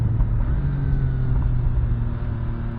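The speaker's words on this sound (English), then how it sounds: "I love the burble on this when you come down." A 2023 MV Agusta Brutale 800RR motorcycle engine burbles steadily and close, a deep, rumbling low-end idle and off-throttle growl with no talk over it.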